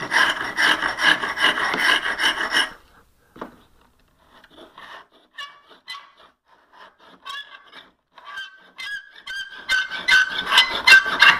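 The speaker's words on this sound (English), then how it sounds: "First, I scrape off the flats." A sash profile scraper shaves the flat faces of a wooden workpiece, a dense rasping scrape up front, then quiet with sparse small scratches and taps, and another burst of scraping near the end.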